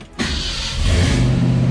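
A 1965 Ford Fairlane 500 with a 289 V8 and a Holley Street Warrior carburetor starting: a brief crank, then the engine catches and settles into a loud, rumbling idle close by.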